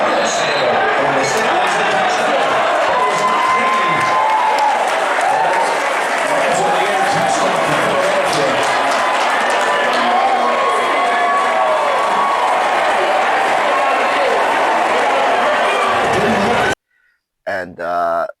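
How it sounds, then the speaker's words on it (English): A packed stadium crowd cheers at a Philadelphia Eagles football game, a loud continuous roar of voices, shouts and clapping lasting most of the stretch before it cuts off abruptly near the end. "This place, it's loud. People cheering for the Eagles when the player does something great."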